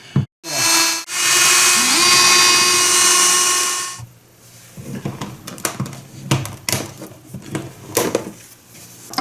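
A Milwaukee power screwdriver backs out bathroom outlet faceplate screws, a loud steady high whine running for about three seconds after a brief start, then followed by scattered clicks and handling knocks of the plate and screws nearby.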